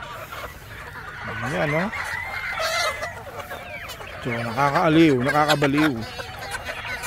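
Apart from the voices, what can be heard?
chickens clucking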